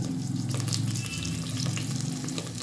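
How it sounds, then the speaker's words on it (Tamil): Mustard seeds with green and dried red chillies frying in oil for a rice-cooker dal rice, a dense close sizzle with scattered tiny pops, steady throughout and without talk. "கடுகு பொறிஞ்சிட்ருக்கு"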